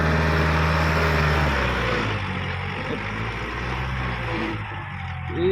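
A vehicle engine runs steadily in the foreground, its low drone gradually sagging and dropping in pitch as it loses power, with no talking.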